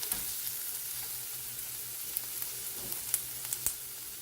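A steady, close sizzle of a hot frying pan with reserved gravy for vegetarian oxtails, broken by a few faint clicks and spatters, no talk.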